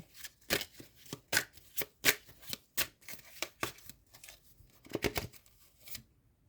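Tarot cards are shuffled in quick, crisp riffles, a rapid papery flutter repeated in bursts, close and fairly quiet, with no talking.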